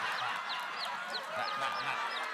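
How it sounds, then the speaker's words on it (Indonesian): Chickens clucking and calling close by in a noisy yard, with repeated short squawks over a steady background hiss. "Ini ayam. Ayamnya yang keluar."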